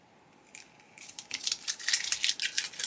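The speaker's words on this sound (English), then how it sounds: "I'm going to peel it back really carefully from there." Cut craft vinyl being carefully peeled back from its backing with a weeding tool, heard as a close, crackly rustling that starts faintly and grows into a steady stream of sticky tearing crackles.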